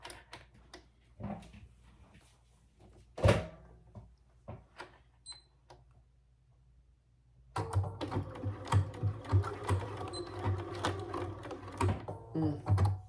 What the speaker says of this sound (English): Sew along the top at the seam allowance in the pattern